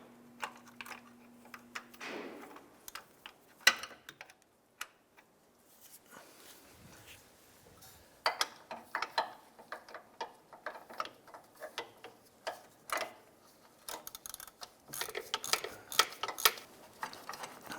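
A ratchet clicks on a rear engine mount bolt of a 2001-2005 Honda Civic, in short bursts of sharp, close ticking separated by quiet pauses, with scattered metallic knocks.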